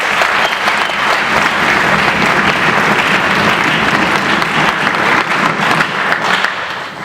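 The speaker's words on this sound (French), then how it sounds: "je vous demande de l'acclamer" An audience at a commemoration for Laurent-Désiré Kabila in the DRC applauds in sustained, dense clapping that stays loud and even, easing slightly at the end.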